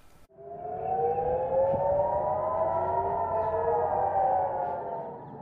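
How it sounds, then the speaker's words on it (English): Air raid sirens wail steadily in Haifa, Israel, during a rocket attack, several overlapping tones rising and falling together, loud and sustained from start to finish. "Sirens wailed as Israel's Iron Dome defense system stopped the incoming rockets"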